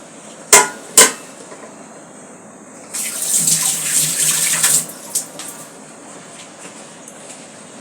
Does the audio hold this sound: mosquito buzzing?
no